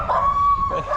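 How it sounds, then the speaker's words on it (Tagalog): A dog lets out a drawn, tonal howling whine over a low rumble, close and steady for about a second with slight breaks. "Galit yung aso."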